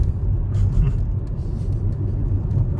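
A car rolls down a steep hill road near Whitby in the UK with new disc brakes and brake pads fitted, giving a steady, close low rumble of road and engine noise throughout with no talking.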